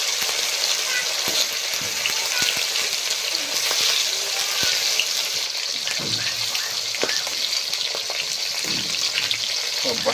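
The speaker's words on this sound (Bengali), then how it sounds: "তেলটা গরম হয়ে গেছে এবার কিন্তু মাছগুলো আস্তে আস্তে দিয়ে ভেজে নেবো" Fish sizzle and crackle in hot oil in a pan for a homemade fish curry, a dense close spitting hiss with scattered pops and occasional stirring scrapes.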